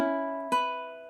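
A ukulele sounds two close, plucked notes, the first ringing briefly and the second cutting off early because a finger was lifted, so it fails to sustain; the notes are quiet, clean and heard alone.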